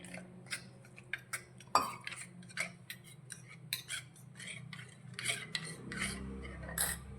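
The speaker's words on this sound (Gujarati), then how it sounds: "અને બધી જ વસ્તુને આપણે મિક્સ કરી લઈશું" Spoon stirring spices and water together in a pan for a light moong dal dish: a quiet series of irregular metallic scrapes and clinks, close and alone, with a few sharper taps on the pan's rim.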